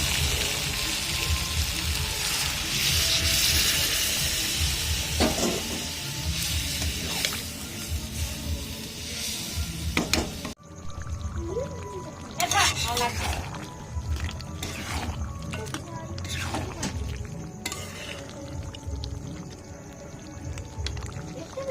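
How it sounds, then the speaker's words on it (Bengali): Water is poured into a pan of browned, slow-cooked meat curry in a home kitchen. A rushing pour and sizzle come first, then bubbling and splashing settle into a simmer, with a voice talking at points. "আমি এবার দিয়ে দেবো এর মধ্যে জল"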